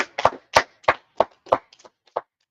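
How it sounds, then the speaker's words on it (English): Scattered people at an ISUPK history class in Harlem, New York clap about eight sparse, uneven claps, close and sharp, fading out over a couple of seconds. "Clap it up for the class."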